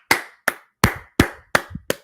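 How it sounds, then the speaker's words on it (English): Six separate hand claps at a steady, slightly uneven pace, sharp and close, with no talking between them. "I just want to clap."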